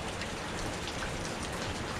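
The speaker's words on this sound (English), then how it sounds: "Got a little tiny waterfall right here." A small waterfall flows along a hiking trail, giving a steady, even rushing hiss of falling water that stays faint and unbroken, with no voices.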